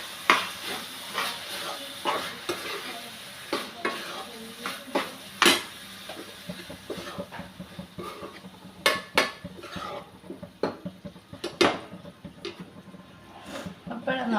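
Prawns roast in a pan under a soft sizzle, with repeated clanks and scrapes of a spoon stirring against the metal, while a person talks over it.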